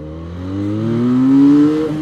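Benelli 502c motorcycle engine revving in neutral, pitch climbing smoothly then dropping off, loud and close with no talking.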